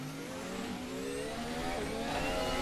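A VRC Formula 1 car in a sim racing game revs loudly and continuously, its engine whine rising through the gears with a sharp shift partway through, heard alone without any talk.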